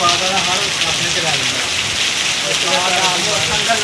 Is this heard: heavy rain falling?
yes